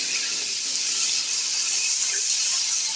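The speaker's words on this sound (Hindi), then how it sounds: "मक्खन थोड़ा सा मेल्ट हो जाए" Butter melts and sizzles with chicken, garlic, ginger and garam masala in a handi pot, making a constant soft, high frying hiss with no voices.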